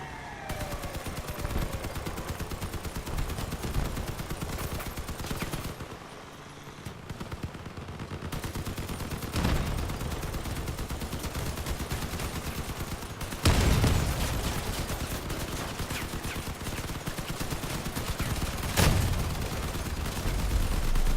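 Several machine guns in the vehicle combat game Crossout fire in long rattling bursts over roughly twenty seconds, with brief pauses and a few heavier booming impacts mixed in.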